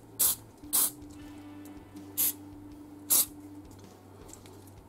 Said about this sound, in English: So now I'm going to spray all.